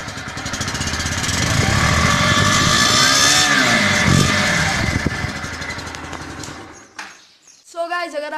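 A Bajaj Pulsar NS160 motorcycle with a very short exhaust idles and revs loudly up close with a steady buzzing drone, then cuts off abruptly, and a brief burst of other sound follows.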